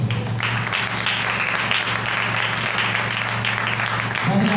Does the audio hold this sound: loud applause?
yes